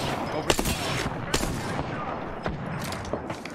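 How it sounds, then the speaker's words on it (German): Rapid gunfire erupts from several directions in an Apex Legends firefight, dense overlapping bursts and sharp cracks hitting close and loud for the whole stretch, with a few heavier individual shots standing out. "Von mehreren Seiten geschossen"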